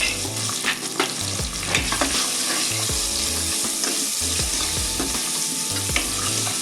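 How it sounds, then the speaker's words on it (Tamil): Onions sizzle and fry in a pot of sambar rice, a steady loud crackle broken by repeated scraping stirs of a spoon against the pot. "வெங்காயம் சேர்த்துக்கலாம்."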